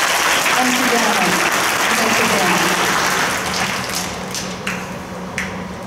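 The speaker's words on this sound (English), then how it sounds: "let's give them a round of applause" A school assembly crowd applauding steadily and loudly, the clapping thinning and fading over the last couple of seconds with a few scattered claps.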